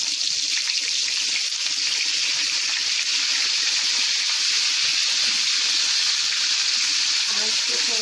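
Butter melting into Dalda ghee in a pan while making chana dal halwa, a steady bright sizzle that holds throughout, close and fairly loud.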